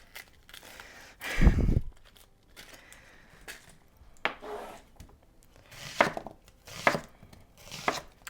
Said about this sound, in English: I've got my onions all chopped